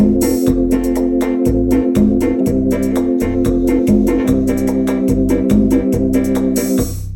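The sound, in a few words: electronic organ rhythm accompaniment with drums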